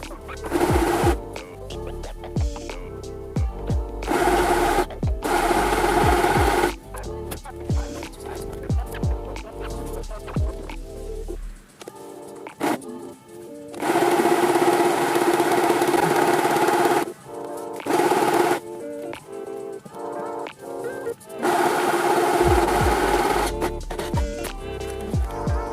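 Sewing machine stitching a seam on leather trousers, running in repeated close bursts of rapid mechanical stitching broken by short stops and quieter gaps.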